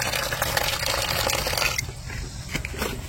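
Water gushes loudly from the tap of an IBC rain barrel, a dense steady splash that drops away sharply partway through and leaves quieter trickling and drips.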